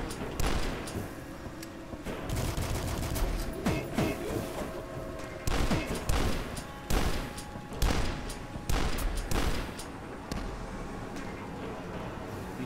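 Shotgun blasts in the shooter Dusk come as a string of sharp, loud booms spaced across the clip, mixed with other game noise.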